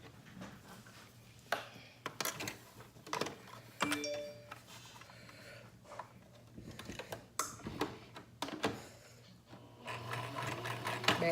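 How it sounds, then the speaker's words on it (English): A sewing machine stitches fabric with faint, uneven mechanical ticks and short whirring runs, quiet and close, broken by the odd handling clatter and no talk. "now we're gonna take this to the sewing machine and sew this down."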